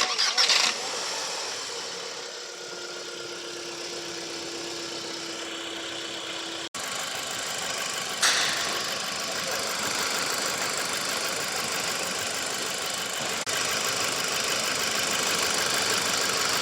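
Volkswagen Eos engine cranking and catching, then settling into a steady idle that runs on close by, with a brief drop partway through and a faint voice over it.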